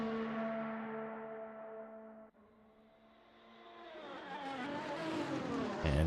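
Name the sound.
Ferrari race car engine at top speed, then downshifting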